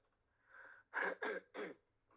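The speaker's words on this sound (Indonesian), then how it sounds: "Mohon maaf ini tenggorokan saya gatal banget ya. Jadi saya sering batuk-batuk." Someone with an itchy throat coughs, a soft throat-clearing breath followed by three close, sharp coughs in quick succession, alone in a quiet room.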